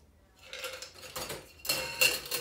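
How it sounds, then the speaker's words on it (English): A shaken cocktail with ice chips being double strained, giving a rising metallic rattle and clink of ice against the strainer and glass over a couple of seconds, close and alone. "And then we're going to double strain that."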